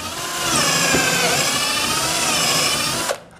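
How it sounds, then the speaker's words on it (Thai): A pneumatic pocket hole jig drills into wood with a loud, steady high-pitched whine that holds for about two and a half seconds and then cuts off abruptly. "เราเจาะเลย"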